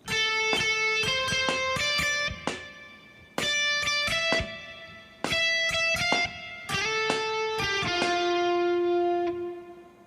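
An electric guitar plays a slow melodic phrase in distinct groups of picked notes, with brief pauses between them and a long held note at the end.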